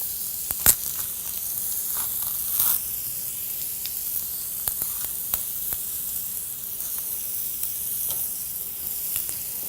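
Bananas frying on a breakfast griddle with eggs and sausage give a soft, steady sizzle and hiss, broken by a few faint clicks and light scraping pops, quiet and close with no voices.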